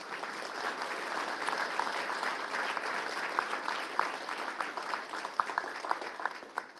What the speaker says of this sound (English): if you give them a big round of applause, please